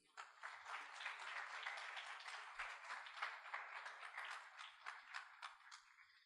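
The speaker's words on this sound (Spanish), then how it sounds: "Dele un aplauso a Cristo." A church congregation applauds during a sermon, a steady wash of hand clapping that holds evenly for several seconds, fairly faint and distant, with no talking over it.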